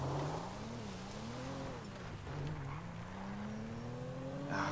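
A car driven in Grand Theft Auto V, its engine droning steadily with rising and falling pitch as it revs and accelerates, loud and continuous throughout without talk.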